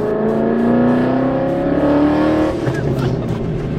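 A car engine fitted with headers exhaust revs loud and close, its raspy tone climbing and holding, then dropping off into a rougher rumble.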